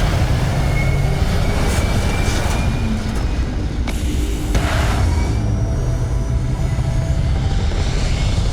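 Spaceship lifting off in Starfield, a loud, dense rumbling engine roar with a rising whoosh partway through, sustained and powerful for several seconds without speech.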